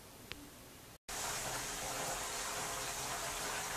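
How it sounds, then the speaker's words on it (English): A pump circulates water through a test tank for an electric-car heater in a workshop, starting with a faint background hum, then a short gap and a steady, loud rushing gush of flowing water. "as I hope you can hear, we got some water circulating here"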